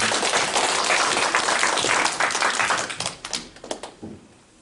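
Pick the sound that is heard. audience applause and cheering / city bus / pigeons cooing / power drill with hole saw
audience applause and cheering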